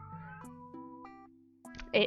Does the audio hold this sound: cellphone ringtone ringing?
no